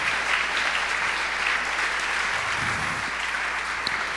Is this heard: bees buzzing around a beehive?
no